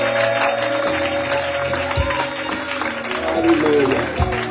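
A church congregation applauds and cheers in praise of the Lord, a dense, sustained wash of clapping and voices with music beneath it throughout.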